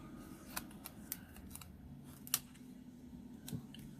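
Quiet, scattered snips of scissors cutting, a few sharp clicks spaced irregularly against a faint room hush.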